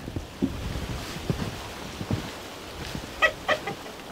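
Chickens in a snowy coop on a cold day give a few faint, short clucks near the end, with scattered soft rustles and taps before them and no talk.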